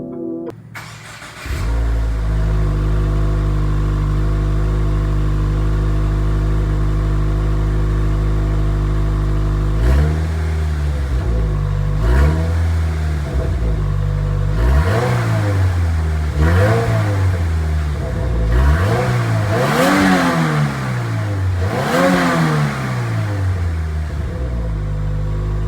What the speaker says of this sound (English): We're going to start off the video with a stock exhaust clip for reference.